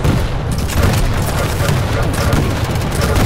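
Dense, continuous barrage of booming rocket explosions in the arena shooter Quake Champions, loud and overlapping with no gaps.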